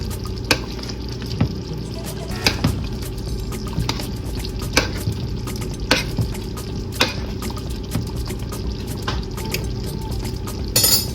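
Seasoned turkey wings being stirred in a pan, with a steady wet sizzle and soft liquid churning broken by regular scraping knocks of the utensil, close and without talk.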